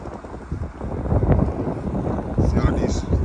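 Gusty wind buffets the microphone outdoors at a model aircraft flying field on a windy Christmas Eve, a steady loud low rumble with swelling gusts throughout.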